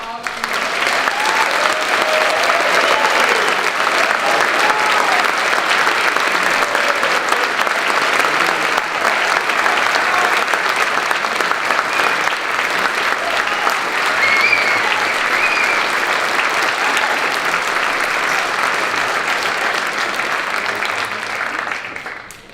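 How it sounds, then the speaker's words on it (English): A large audience applauds steadily at a high school National Honor Society induction ceremony, with dense, sustained clapping that fills the hall for over twenty seconds before tapering off at the end. "Let's give a final round of applause for all the"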